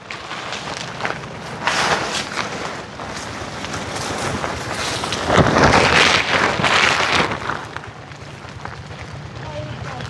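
Wind buffets a microphone outdoors at a work site, a loud continuous rumbling roar that surges in a strong gust midway, with faint voices underneath.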